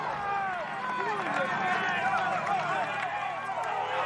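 Roadside spectators at a Tour de France stage in 2014 shout and cheer as riders pass, a dense, steady wall of excited voices and whistles that stays loud and close throughout.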